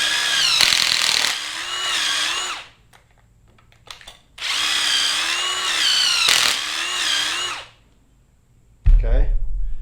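A power drill whines loudly in two long bursts with its pitch wavering, drilling pocket holes in wood, separated by a short pause and a few clicks, ending with a thump.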